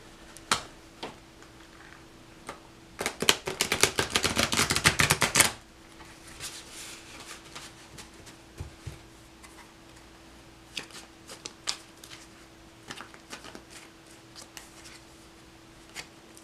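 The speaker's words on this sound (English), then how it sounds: "My best shuffle ever." A quick burst of riffled tarot card shuffling lasting a couple of seconds, preceded and followed by scattered soft taps and handling noises in a quiet room.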